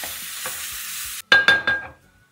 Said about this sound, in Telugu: ఇదంతా బాగా మిక్స్ చేసుకోవాలి.